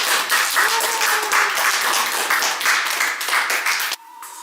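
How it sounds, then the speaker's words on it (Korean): A group on a company trip breaks into loud, brisk clapping, many hands together and close, that cuts off sharply near the end, leaving a quiet tone. "박수"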